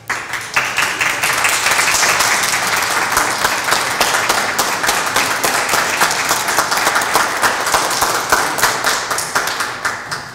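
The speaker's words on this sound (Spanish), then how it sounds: "le damos un gran aplauso" Sustained applause fills a Senate ceremony hall during an honor for an organization's 60 years of service, a dense crowd of hands clapping loudly and evenly for about ten seconds.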